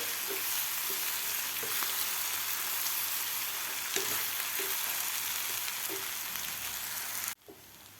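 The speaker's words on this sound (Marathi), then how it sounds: "आपल्याला हे व्यवस्थित परतून घ्यायचे आहेत पोहे खालच्या मसाल्यामध्ये" Poha stir-frying in masala with sweet corn, a steady close sizzle with soft periodic scrapes of stirring, stopping abruptly near the end.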